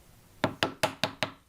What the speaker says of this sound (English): Knock this chip out.